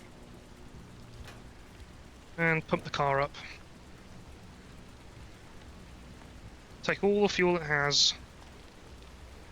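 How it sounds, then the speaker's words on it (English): Rain in the video game Pacific Drive falls as a steady soft patter throughout, while someone talks over it in two short bursts. "Or is it radioactive rain?"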